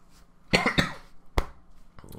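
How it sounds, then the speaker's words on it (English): Two sharp coughs close together, then a third a moment later, close and fairly loud with a quiet room behind them. "will cut that cough out, which was a bit rubbish"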